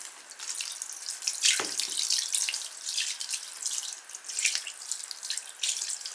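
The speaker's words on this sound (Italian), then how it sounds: "Verso l'acqua," Tap water pours steadily into a container of salt water for whitening clothes, a continuous bright splashing stream with a brief louder gush near the start, close and alone with no talk.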